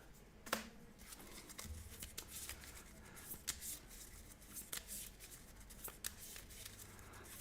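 Playing cards riffled and shuffled back into a deck during a Marvel Champions card game, a short soft crackling flurry of card snaps with light handling noises, close and quiet, no talking over it.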